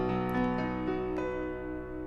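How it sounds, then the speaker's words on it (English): The first six harmonics sound together as a sustained major chord, a steady, rich blended tone held for about two seconds, with no talk. "They sound like a major chord."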